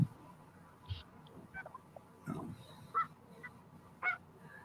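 Geese honk in a few short, scattered calls against low background rumble, with brief noises between them.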